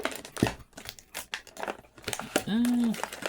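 Plastic toy packaging for a Jurassic World Rebirth Micro Adventures Mutadon crinkles and crackles as it is cut open, in close, irregular rustling bursts, with a voice speaking over parts of it.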